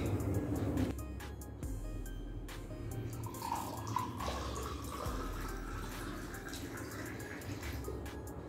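Water pours steadily from a phone in a drink-pouring trick, a continuous close splashing and trickling stream that holds for the whole stretch with no talk over it.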